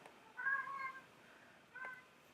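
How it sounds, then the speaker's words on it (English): A male cat carrying his small teddy bear gives two short meows indoors, a longer one near the start and a brief one toward the end, fairly quiet against a low room hum. "cat saying hello in the background."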